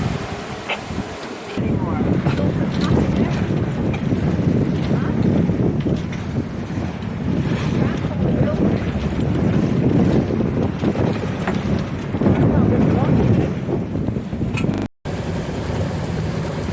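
A sailboat with its mast down motors along the Erie Canal, its engine chugging in a steady low rumble beneath wind buffeting the microphone, with a person talking over it.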